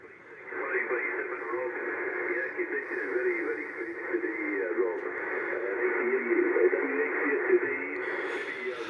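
An amateur radio transmission with a voice speaking through a narrowband, crackly channel, steady and continuous, sounding like a ham radio conversation.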